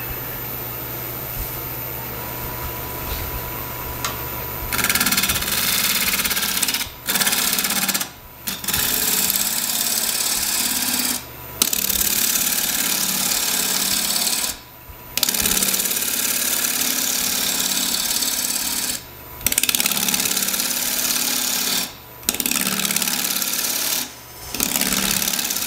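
A wood lathe turns a square cottonwood burl bowl, giving a loud, steady motor hum with rough cutting noise that drops out briefly several times as the tool lifts away and then resumes.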